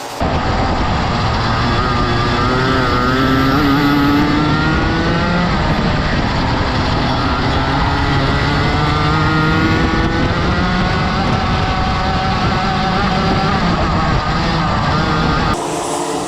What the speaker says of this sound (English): As down the inside goes Grounds, and I think that could well leave the door open.